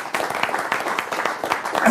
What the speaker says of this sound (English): Let's give these gentlemen a nice round of applause.